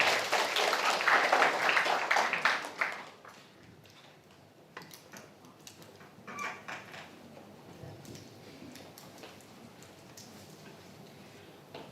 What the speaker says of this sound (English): join me welcoming Ibu Dr. Julie Baskuncilo with a warm applause.